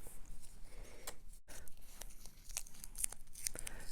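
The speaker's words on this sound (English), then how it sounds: "Now I'm going to just take some painter's tape" A strip of painter's tape is pulled and torn from a roll while making a watercolour Valentine's card, heard as quiet crinkly ripping and crackling with a few small clicks, close up and faint.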